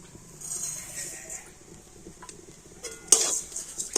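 Sugar being stirred into fried grated coconut in a pan, with soft scraping and clinking of a utensil against the metal, faint at first and then a few louder scrapes near the end.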